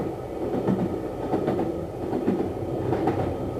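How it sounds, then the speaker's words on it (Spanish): A wartime train hauling prisoners to the Gulag rumbles steadily along the rails, with a rhythmic clickety-clack of wheels over the joints and a dense, continuous low roar, fairly close and with no voices. "los trenes empezaron a transportar prisioneros al Gulag"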